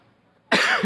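After near silence, one loud, sharp cough from an irritated throat bursts out close by.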